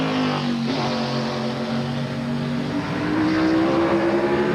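A Cartoon Network–liveried Chevrolet stock car from the 1997 Busch series runs on the Charlotte track, its loud, close engine droning steadily for several seconds before the pitch climbs as it accelerates near the end.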